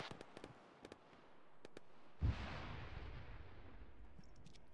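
A frag grenade detonates inside a bunker in a video game: one sudden heavy boom, then a long, loud roaring rumble that lingers. A few faint sharp clicks and distant pops come before it.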